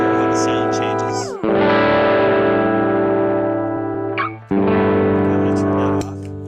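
An electric guitar played through a distortion effect rings out in sustained chords, the gritty, saturated tone shifting as chords change in three held blocks with short breaks between.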